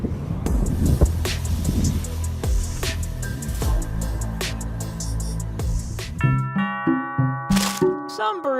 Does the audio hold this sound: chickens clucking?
no